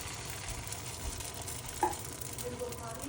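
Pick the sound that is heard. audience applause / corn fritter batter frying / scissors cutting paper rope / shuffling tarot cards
corn fritter batter frying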